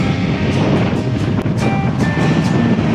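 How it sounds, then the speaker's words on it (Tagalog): Strong wind blowing on a mountain road between Atok, Benguet and Cauayan, Isabela: a loud, steady roaring rush buffets the microphone throughout, with faint higher tones drifting through and no talking. "Lakas ng hangin."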